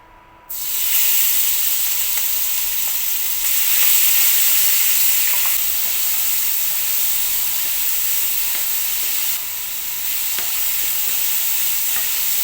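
Prawns for tacos hit hot olive oil in a pan and burst into a loud, sustained hissing sizzle that starts abruptly and holds steady throughout.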